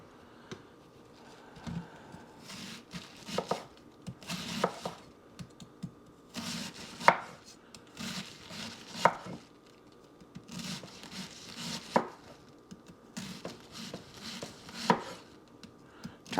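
A quarter head of cabbage chopped with a sharp Cutco knife on a board, irregular bursts of quick crisp cuts separated by pauses, fairly close and moderately loud.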